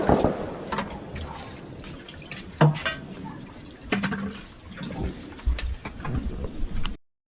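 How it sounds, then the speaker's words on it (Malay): Dishes being washed with water at a riverside campsite, irregular splashing, pouring and clattering close by, with uneven bursts and a few knocks before the sound cuts off abruptly near the end. "Lepas dah masak, makan, cuci pinggan mangkuk"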